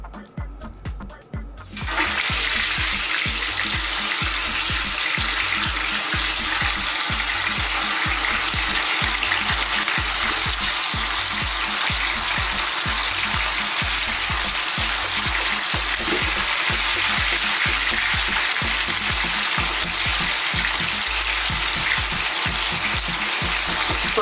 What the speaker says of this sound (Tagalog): Ready na po itong iprito.